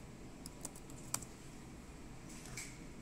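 Typing on an Apple computer keyboard: a few quiet, scattered key clicks with one sharper tap, faint over a soft room hiss and no talking.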